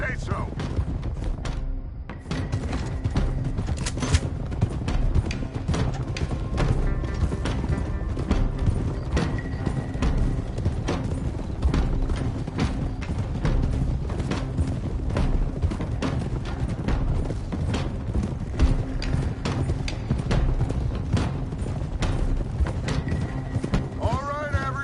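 Horses trot in Red Dead Redemption 2, their steady clip-clop running through the whole stretch, loud and close, beneath a dense layer of game music and effects, with occasional thuds and a brief drop near the start.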